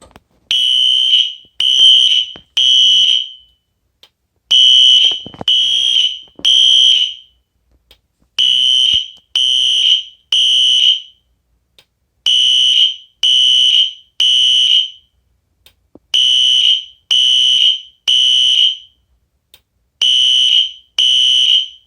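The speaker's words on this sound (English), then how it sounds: "go ahead and start things off with the smoke detector" A loud, piercing smoke alarm beeps in repeated bursts of three, separated by short pauses, with no voices.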